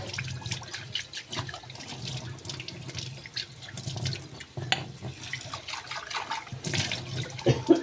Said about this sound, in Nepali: अलिकति पानी हाल्नुपर्छ